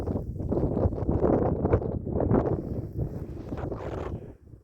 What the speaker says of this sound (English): It's nice being out with that wind.